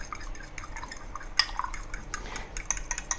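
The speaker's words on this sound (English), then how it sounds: "you have to mix the egg yolk and the egg white thoroughly" A whisk or fork beats egg yolk and egg white together in a bowl for coating panko shrimp, giving light scraping taps and clinks against the bowl at close range, with a sharper knock partway through.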